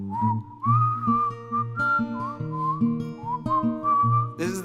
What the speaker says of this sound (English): whistle solo, everyone